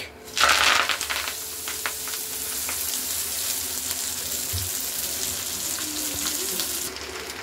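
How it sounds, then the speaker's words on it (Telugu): Drumstick leaves drop into hot oil with a sharp burst of sizzling that settles into a steady frying hiss, with no voices. "ఆయిల్ అయితే హీట్ అయిపోయింది. పట్ట అంటుంది, దూరంగా వెళ్ళండి"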